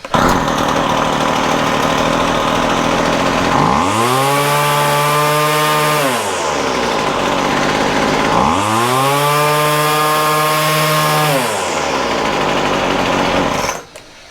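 A Poulan Feather Lite chainsaw runs loud and close, revving hard twice with a high buzzing whine that climbs, holds and drops back to a rough idle between bursts.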